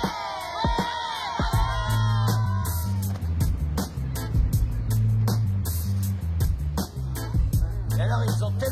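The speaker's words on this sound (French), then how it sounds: "Les enfants, je vous demande d'applaudir bien fort un homme qui a toujours été un exemple et une source d'inspiration pour nous tous." Children cheer, shout and whoop as a crowd welcoming a guest, a loud steady roar with sharp claps and yells rising throughout.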